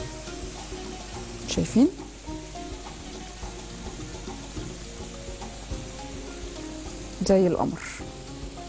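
Rice kofta fry in hot oil with a soft, steady sizzle, joined by two brief louder bursts of bubbling and scraping as the pieces are moved, while someone talks briefly over it.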